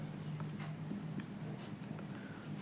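A pen or marker writes out a maths problem on interest and principal, giving a steady, close scratching with short strokes over a constant low hum; no speech.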